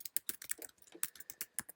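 Close, crisp keystrokes on a computer keyboard clatter in an uneven rapid rhythm, about a dozen distinct taps in quick succession.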